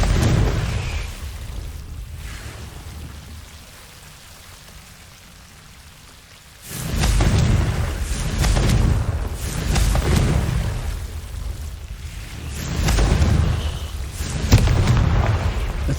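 In the video game Hogwarts Legacy, the Confringo fire spell is cast, giving loud rumbling fiery bursts. A quiet stretch is followed by a sudden sustained roaring crackle that swells in waves, with no speech.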